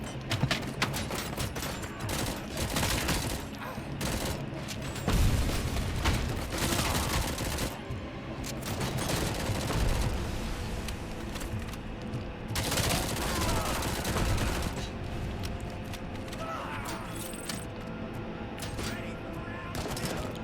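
Rapid SMG machine-gun fire in the video game RoboCop: Rogue City, repeated loud bursts of automatic shots with brief pauses between volleys, mixed with impacts and game effects.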